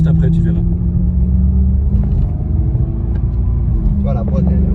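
Ferrari V8 engine and gearbox while driving, a steady loud low rumble throughout with people talking over it.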